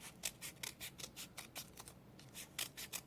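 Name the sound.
scissors cutting paper thinly for origami paper robot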